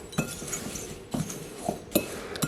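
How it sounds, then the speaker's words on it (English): Spoon stirring chia seeds, ground cinnamon and salt in a bowl, several light clinks and scrapes against the dish at irregular intervals, close and fairly quiet. "I'm just gonna stir that all up"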